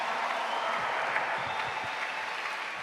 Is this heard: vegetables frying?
no